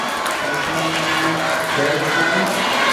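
An audience at a school quiz competition for fourth-grade students claps and cheers steadily after the winners are announced, a dense wash of applause lasting a few seconds.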